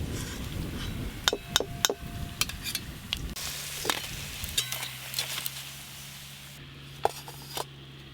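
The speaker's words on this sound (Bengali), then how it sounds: "দেখতে দেখতে এই বড়াগুলো সব ভাজা হয়ে গেল," Mustard-flower fritters (bora) frying in hot oil give a faint, steady sizzle, broken by scattered clinks and taps of a utensil against the pan.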